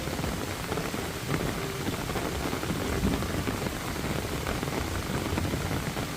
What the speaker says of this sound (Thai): ฝนตกก็ลุยเลยนะคะนี่ป้อย